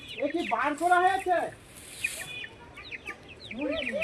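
A chicken clucks in short, rising bursts close by, alternating with a person talking, then more clucking at the end.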